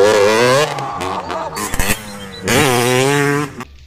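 A toy motocross motorcycle engine sound, played in a toy vehicle showcase, comes as loud revving bursts with rising and falling pitch, a short gap of clicks in the middle, then another strong rev.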